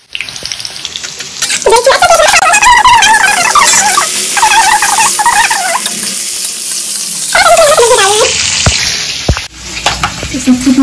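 Soybean chunks roast in a pan, giving a loud, close sizzle and repeated scraping, squeaking strokes of stirring that pause and then resume.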